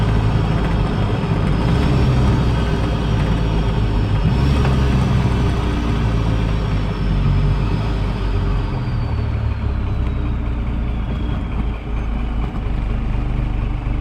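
A 1991.5 Dodge Cummins diesel truck with an Allison six-speed automatic runs at wide-open throttle, giving a loud, steady, heavy engine drone that holds unbroken throughout with no voices.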